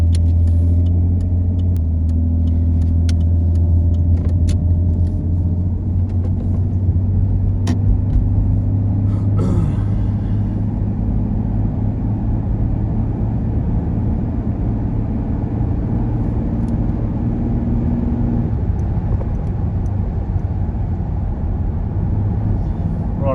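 A Ford EA Falcon drives with a loud, steady engine rumble from inside the cabin, the pitch changing as it shifts through gears while someone talks throughout; the transmission was low on fluid.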